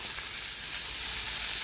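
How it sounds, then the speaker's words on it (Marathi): Chopped onion, tomato, garlic, ginger and cashews frying in oil for butter chicken, making a loud, continuous close-up sizzle with no pauses and no talking. "आता हे सगळं आपल्याला 2 मिनिटं तेलामध्ये भाजून घ्यायचं आहे"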